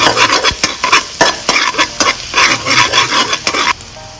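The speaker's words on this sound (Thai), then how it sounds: "ใส่น้ำมันค่ะ กระเทียม ผัดให้หอมนะคะ" Garlic stir-frying in hot oil in a pan for a Thai shrimp dish, a loud steady sizzle broken by repeated scraping stirs and clinks of a utensil against the pan, with no talking.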